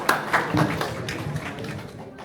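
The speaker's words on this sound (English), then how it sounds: "So round of applause for all the parents." An audience gives a round of applause for the parents at a student coding and innovation camp: a brief, moderately loud burst of scattered clapping that thins out over about two seconds.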